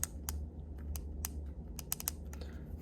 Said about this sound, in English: it'll be hard or it won't do like the little clicks. Hear that?